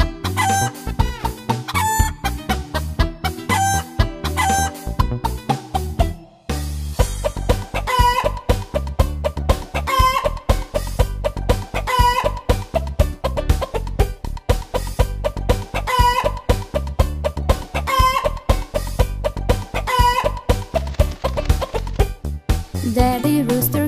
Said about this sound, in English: Strong and loud then he blew, cock-a-doodle-doo.